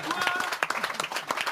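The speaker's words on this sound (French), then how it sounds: "Applaudissez-le" Audience applause at an anniversary show, a short burst of scattered clapping in a room with voices mixed in.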